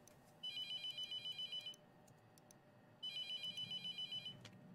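Telephone ringing in the horror game The Mortuary Assistant, two bursts of rapid electronic trilling separated by a pause, fairly quiet with no talk.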